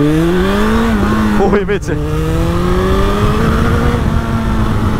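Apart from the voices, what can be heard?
1200cc Suzuki Bandit motorcycle accelerating hard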